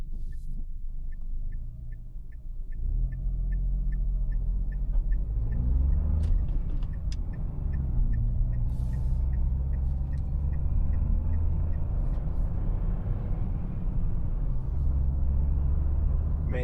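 A 2026 Dacia Sandero with eco mode switched off drives along with a low, steady engine and road rumble from inside the cabin. A regular ticking runs through part of it, and there is no talking.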